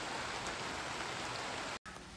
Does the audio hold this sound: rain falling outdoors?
yes